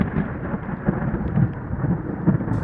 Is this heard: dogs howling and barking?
no